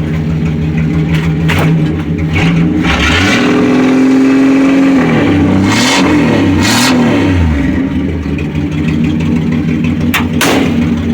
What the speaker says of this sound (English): yeah, it's open exhaust pipe.